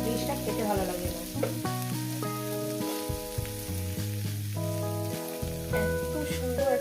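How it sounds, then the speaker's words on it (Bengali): Pumpkin and onion frying in plenty of oil for a pumpkin bharta, giving a steady, soft sizzle with stirring beneath louder background music. "কুমড়োটা আর পেঁয়াজটা আমি ভেজে নিয়েছি।"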